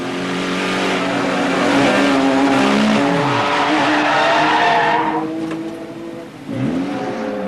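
Audi race car in a GT race skidding off after a driver error, with a loud sustained engine roar and tire squeal that swoops down in pitch, then briefly dips before the engine picks up again.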